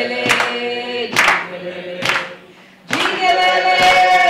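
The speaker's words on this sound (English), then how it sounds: "Jikelele, you can clap" Audience clapping along in time to the Ndebele/Zulu song Jikelele at a live performance, several rhythmic bursts of hand claps with singing voices between them.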